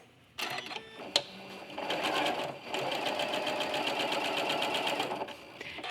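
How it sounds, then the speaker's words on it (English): Quilting fabric is pieced on a sewing machine with a presser foot: a few short starting clicks, then a steady fast rhythmic whir of stitching, close and even until it stops near the end. "So we'll start sewing and we'll see how our pressure is"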